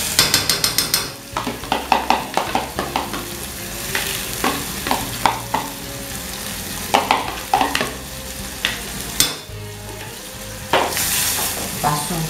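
Cream added to a salmon pasta sauce in a pan, with steady sizzling and frying and repeated stirring scrapes and clinks of a utensil against the pan, close and continuous with no talking.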